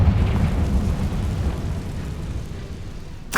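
A Confringo blasting spell goes off in Hogwarts Legacy, a loud, rumbling explosion with a heavy low boom that fades gradually, then a short sharp burst at the very end.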